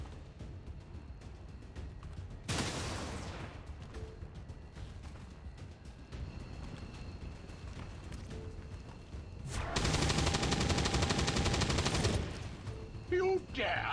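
Gunfire barrage in XCOM 2, two loud bursts of rapid automatic fire, a short one early and a longer heavier volley later, over a quieter rumbling battle bed.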